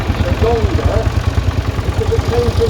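A David Brown tractor engine runs at the Christow country show with a steady, rhythmic idling chug close by, while someone talks over it.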